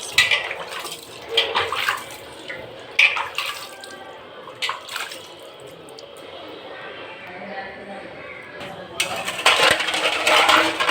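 Puja items are washed by hand in water, giving splashes, drips and small metallic clinks close by. Someone talks over the sloshing, and a burst of louder splashing comes near the end.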